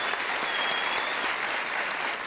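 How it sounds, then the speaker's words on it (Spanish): A studio audience bursts into steady, dense applause that fills the whole stretch at an even, loud level, with a faint murmur of crowd voices underneath. "un aplauso por todos esos padres y esos hijos que no están con nosotros"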